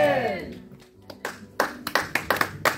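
A church congregation at a sermon answers with scattered, uneven hand claps that start after a preacher's voice trails off, growing into a loose run of separate claps.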